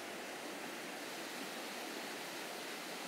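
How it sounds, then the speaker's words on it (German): Rushing water of a cold mountain stream where laundry is washed by hand without soap, a steady broadband flow that stays even and unbroken, close by, with no voices. "die Melli wäscht gerade Wäsche und natürlich ohne Seife"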